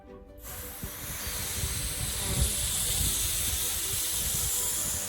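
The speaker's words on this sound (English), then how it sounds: "turn on the hose on your sprinkler mode" A garden hose set to sprinkler mode spraying water outdoors: a steady, close, broad hiss that starts after a brief silence and runs on with a soft low rumble underneath.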